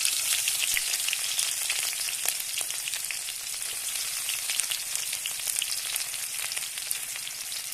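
Whole cumin and chopped onion sizzle steadily in hot oil in a pan, a close, continuous crackling fry with scattered sharper pops.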